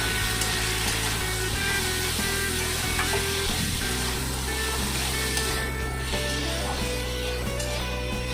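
Ground spice paste fries in a pan for ghugni, an even close sizzle with soft clinks and stirring scrapes throughout and no talking.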